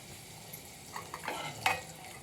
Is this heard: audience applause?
no